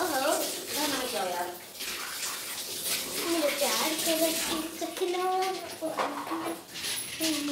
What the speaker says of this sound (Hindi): लेकिन सावनी इसके पहले ही आ गई नहाने के लिए, पहले वो नहाएगी, इसके बाद फिर मैं नहाने चली जाऊँगी